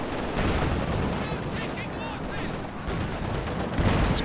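Artillery barrage from a Soviet ZiS-3 field gun in a Company of Heroes 2 1v1 match, a dense continuous rumble of blasts and crackling gunfire that stays loud and steady throughout, with some voice mixed in.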